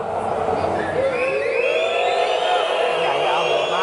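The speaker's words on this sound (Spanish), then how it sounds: "un abucheo con insultos incluidos, es decir, lo más sonoro que podáis a partir de ahora." An audience at an education panel debate boos loudly and steadily, a dense roar of many voices with jeering shouts rising through it, sustained for the whole stretch.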